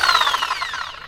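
A power drill with a mixing paddle stirring NEXUS TITAN jointing compound in a tub: a loud, close motor whine that slides downward in pitch as it slows over about a second.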